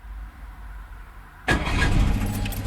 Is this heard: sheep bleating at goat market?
no